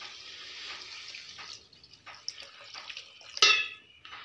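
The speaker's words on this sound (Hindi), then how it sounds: "जग के करीब पानी भर के लाया हूँ, मैं डालता हूँ अभी" Filtered water is poured from a jug into a cooking pot of peas, a soft trickling splash that builds, breaks off briefly, then returns with a louder burst of pouring.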